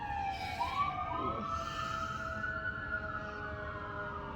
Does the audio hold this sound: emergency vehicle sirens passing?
yes